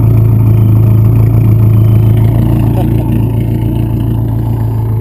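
A 1995 Dodge Neon track car with a single overhead cam engine and straight exhaust idles loudly and steadily up close, a deep constant drone with a rough, chattering burble.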